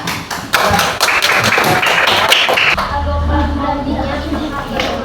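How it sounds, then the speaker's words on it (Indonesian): Students clapping in an Indonesian classroom during a teacher's practice lesson, a burst of close, sharp hand claps that stops after about three seconds, followed by room murmur and a voice. "Tepuk tangan."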